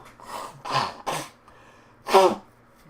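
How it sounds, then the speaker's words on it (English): A few breathy, throaty bursts build up, followed after a pause by one sharp, voiced sneeze-like burst, close and fairly loud. "I got to sneeze, hold on."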